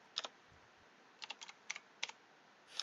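Quiet clicks from a computer keyboard arrive in short, uneven bursts of a few keystrokes each, spaced by brief pauses, with no one speaking.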